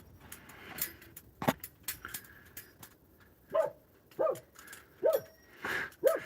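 A dog barks outdoors in short, separate woofs, several spaced barks growing more frequent toward the end, close by, with faint clinks and rustles between them.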